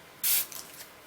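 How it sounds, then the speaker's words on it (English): A spray bottle spritzes water onto a painting canvas in one short, sharp hiss, followed by a few faint clicks of the trigger in an otherwise quiet room. "just take a spray bottle and spray some water"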